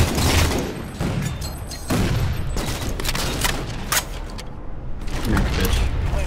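Rocket launcher blasts and explosions in Halo 4 Slayer multiplayer, a dense run of loud booms and gunfire bursts with sharp transients throughout, no voices.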